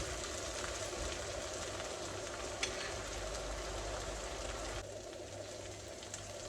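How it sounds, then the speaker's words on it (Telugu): Ginger garlic paste frying in a pan for Hyderabadi chicken curry, a steady, even sizzle that holds at one level and then drops slightly softer near the end, with no talk. "దాన్ని మంచిగా కొంచెం వేగనిస్తే ఆ పచ్చివాసన అంతా వెళ్ళిపోతుంది."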